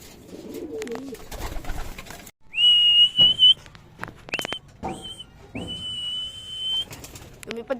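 Pet pigeons at home giving short whistling coos and wing flaps, close by, in several separate bursts with brief pauses between them.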